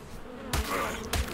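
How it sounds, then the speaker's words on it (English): Bees buzz in the survival game Ark, a constant insect drone sounding near, with two louder thumps breaking through the hum. "Okay, but the bees are mad at us."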